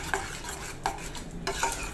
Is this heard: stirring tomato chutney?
yes